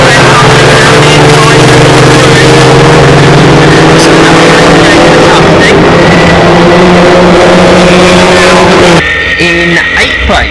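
Historic Formula Ford 2000 race cars at Croft, engines droning and shifting pitch as they pass close and loud, with race commentary running continuously over them.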